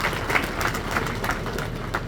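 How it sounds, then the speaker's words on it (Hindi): A crowd at a ground-breaking ceremony at a municipal corporation headquarters applauds to welcome the mayor, giving a steady, moderately loud patter of clapping with slight pulses throughout. "जरा तालियां बजाकर स्वागत करें।"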